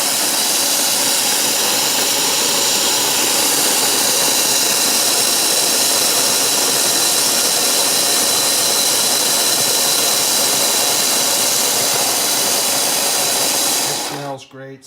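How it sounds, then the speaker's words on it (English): An OXO Brew conical burr coffee grinder grinds coffee beans with a steady, loud whirring drone that runs unbroken for about fourteen seconds, then cuts off. "And you press that and it grinds the perfect amount."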